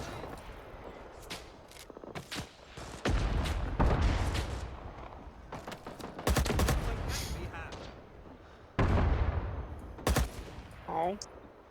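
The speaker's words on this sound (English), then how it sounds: "That person is apparently invulnerable to machine gun fire." Machine gun fire in the World War era shooter Rising Storm 2, with bursts of rapid shots and heavy impacts coming in clusters over a noisy battlefield, loud and close with some quieter gaps between volleys.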